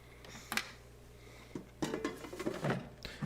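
Food is stirred in the basket of a Gourmia GAF698 air fryer, giving a few faint scraping clatters and light metallic taps at irregular intervals, close by and quiet.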